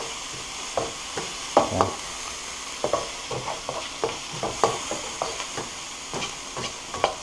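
Onions sauté in a pan for chicken fried rice, a steady hiss under repeated short scraping stirs at an irregular rhythm, close and moderately loud, with one brief spoken word.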